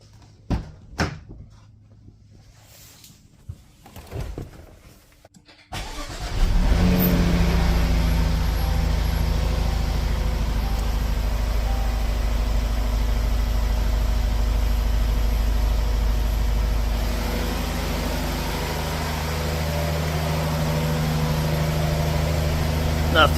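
A 2017 Jaguar XF 35T with a supercharged engine starts up after a few faint clicks and thuds, then settles into a loud, steady, close idle that holds for the rest of the clip.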